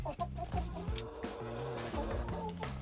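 Hens in a farm coop cluck close by in a continuous series of short, rhythmic clucks and throaty calls, with no talking.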